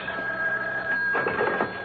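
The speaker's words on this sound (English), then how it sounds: "when the phone rings" On a radio drama, a telephone rings with a faint, steady electric bell tone over background hiss, and a soft ringing burst comes near the end. No speech is heard.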